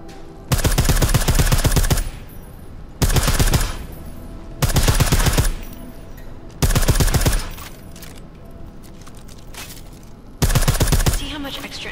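Silenced gunfire in the video game Deus Ex: Mankind Divided: five separate bursts of rapid suppressed shots, each lasting about a second, with short gaps of quieter game sound between them, loud and close.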